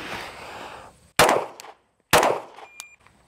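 A handgun drawn and fired twice in a police shooting drill: two sharp, loud reports about a second apart, each ringing off briefly after a quiet rustle of the draw.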